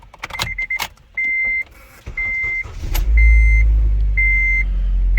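A car engine cranks and starts after an ignition repair by a locksmith, following a few repeated electronic chimes, then settles into a loud, steady idle close by.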